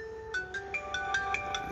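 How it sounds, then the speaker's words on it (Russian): A mobile phone rings with an incoming call, a melodic ringtone of bright repeating tones that starts a moment in, plays alone and fairly loud, and loops steadily with no talk over it. "Бляха-муха, звонят."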